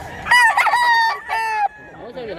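A rooster crows up close, one loud, full cock-a-doodle-doo with a drawn-out final note, followed by softer clucking.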